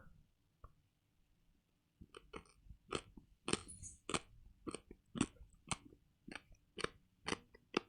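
Close, repeated wet bites and smacks of someone chewing a squishy gummy Japanese snack, coming in a steady, uneven rhythm after a short quiet start, with no talking.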